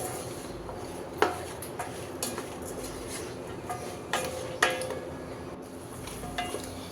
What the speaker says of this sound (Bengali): তো নেড়ে চেড়ে ভেজে নিচ্ছি